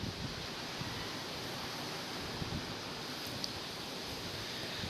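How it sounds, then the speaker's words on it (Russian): Strong wind from a cyclone at night, with gusts around 22 to 25 metres per second, a constant broad roaring rush buffeting the microphone, steady and fairly loud with no voices. "Вон, видите, какой ветрил, ребят."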